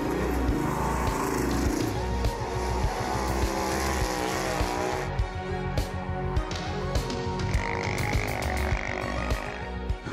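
Off-road vehicle engines roar across the Glamis sand dunes in California, a continuous loud droning with revving surges and passing engines, some pulsing rhythm beneath, with no clear talk.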